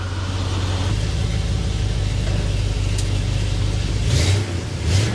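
A classic car's engine idles with a deep, steady rumble close by, then swells briefly near the end as the engine is revved, with no talking.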